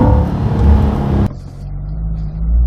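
A 2020 Corvette C8 makes a loud, dense engine roar during a full-throttle pull, then the roar drops suddenly to a lower, quieter rumble midway before swelling again.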